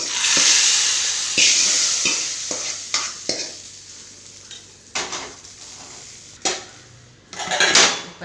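Spices tempering in hot oil for pachadi in a home kitchen, a loud steady sizzle with repeated sharp clanks of a spoon stirring against the pan and a final burst of hissing.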